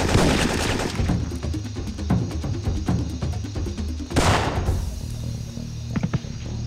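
Automated jungle turrets in Syphon Filter 3 fire rapid bursts of gunfire, a dense rattling stream with a louder blast partway through, followed by scattered shots.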